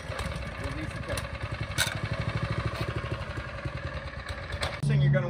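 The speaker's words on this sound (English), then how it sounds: "Turn your switch on, choke lever right here, pull the rope to start, release the choke." A front tine tiller's small engine pulls over on the rope and runs at a steady, chugging idle, close and fairly loud, with a brief rise in engine note near the end.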